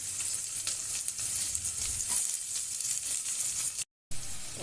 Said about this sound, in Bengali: আমি এখন পেঁয়াজটা ভাজা হয়ে গিয়েছে